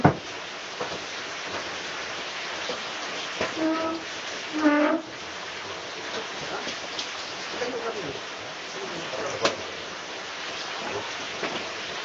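Heavy rain falls steadily outdoors as recorded by a CCTV camera, a continuous moderate hiss with a few faint rumbles, and brief muffled voices around the middle.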